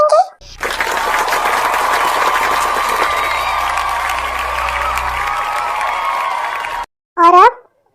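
Applause from an audience, a dense, loud burst of clapping mixed with crowd noise that holds steady for several seconds, then stops abruptly, with voices talking briefly before and after.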